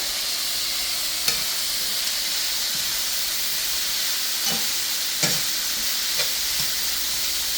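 A Cuban dish with olive oil and bay leaves stirred in a pot gives a steady, close sizzle and hiss, broken by a few brief scrapes of the spoon.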